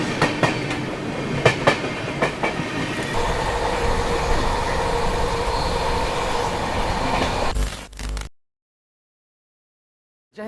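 The Ala Hazrat Express, an Indian passenger train, rushes past at full speed with a steady roar, rattling wheels and sharp clacks early on, then cuts off abruptly into silence.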